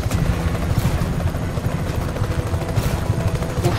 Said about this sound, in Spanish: Vale, he encontrado un helicóptero.